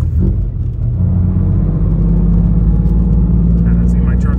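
A drift car's engine holds a steady low, loud rumble through an upshift into third gear on a track, with a voice talking over the droning motor.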